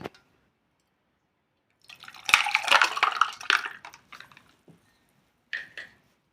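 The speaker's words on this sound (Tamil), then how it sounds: "இந்த மாதிரி மூடி உள்ள டம்ளரில் நம்ம இதை ஊற்றிக்கலாம்." A drink for kulukki sarbath poured into a lidded tumbler, a close splashing pour in a burst followed by a few drips and a short final splash, no talking.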